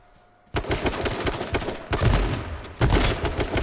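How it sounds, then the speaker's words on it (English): Gunfire in the video game H1Z1 King of the Kill, where a sudden loud barrage of rapid automatic shots breaks a quiet moment and repeats in dense, close bursts with heavy impacts, with no speech. "Ah, shit, we're being shot at."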